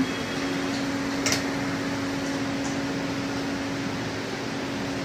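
Air-pressure garlic peeling machine running, a steady loud mechanical hum and hiss of compressed air with a constant tonal whine and one brief sharp burst partway through.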